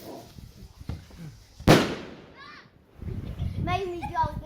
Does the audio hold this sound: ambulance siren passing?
no